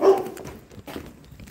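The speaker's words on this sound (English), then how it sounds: "That was a dog." A dog barks once, loud and close, during an urban exploration of an abandoned place, followed by scuffling and rustling noise.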